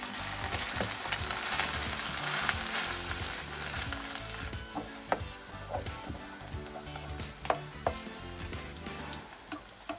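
A batter mixture poured into a hot pan crackles and sizzles steadily for the whole stretch, loud and close, with sharp ticks and small clatters breaking through now and then.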